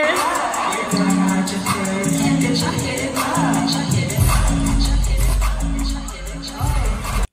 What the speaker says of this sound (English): Hey, you heard that crowd though.